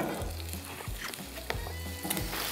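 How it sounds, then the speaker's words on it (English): Potatoes fry in a tablespoon of oil in a hot non-stick pan for Korean soy braised potatoes, giving a steady, moderately loud sizzle with occasional spatula scrapes and no speech. "we're gonna heat the pan with a tablespoon of oil and add potatoes in"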